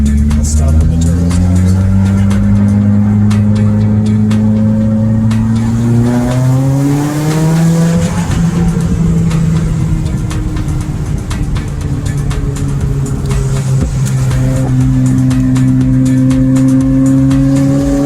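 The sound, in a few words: tuned 2017 Subaru WRX accelerating with turbo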